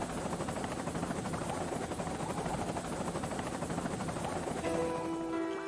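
Video game helicopter with a steady, dense rotor thrum and engine whine, loud and unbroken throughout, with a brief tonal overlay near the end.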